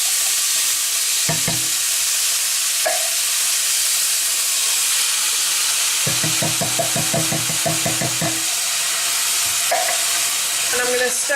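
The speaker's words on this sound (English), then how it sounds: "And then I'm going to add in my tomatoes." Tomatoes hit frying onions in a hot pan with a loud, continuous sizzle and hiss, steady throughout, broken by a few wooden stirring knocks and clatters.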